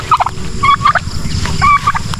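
Loud, close turkey gobbling in quick warbling bursts, repeated several times over a steady outdoor background.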